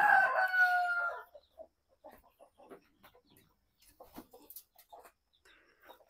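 Rooster crowing loudly once at the start, followed by soft, scattered clucks and small bursts of noise from chickens in a coop, faint and intermittent against quiet.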